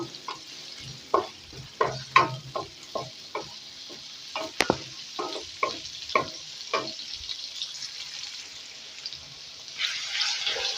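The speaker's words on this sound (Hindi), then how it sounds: "सबसे पहले प्याज को जो है हम लाइट ब्राउन कर लेंगे।" Onions fry to light brown in a pan for qeema karahi, a steady sizzle running underneath as a spoon scrapes and stirs in about a dozen regular strokes, close and moderately loud.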